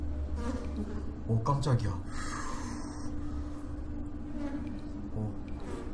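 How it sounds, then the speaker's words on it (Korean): Fly buzzing steadily in the dark audio-only game Dark Echo, a low droning hum running throughout while someone speaks briefly over it with a startled exclamation. "이 파리 소리 이거"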